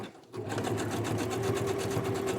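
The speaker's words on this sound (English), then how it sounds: "And I am going to back stitch these" A sewing machine runs steadily, stitching a wide zigzag on fabric while backstitching, its rapid mechanical whir close and continuous after a brief quiet start.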